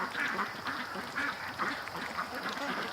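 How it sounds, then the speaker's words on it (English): A Muscovy duck by a lake gives soft, rough calls in a few repeated bursts over steady outdoor background noise. The calls sound moderately close, and no one speaks. "is a Muscovy that just flew down to the lake."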